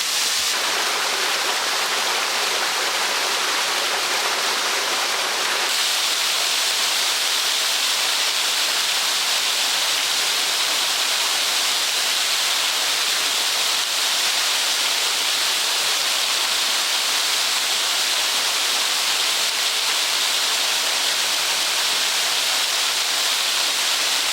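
A steady rushing waterfall cascading over terraced shale at Blue Hen Falls roars continuously, close and loud, with a broad hiss of falling water and no voices.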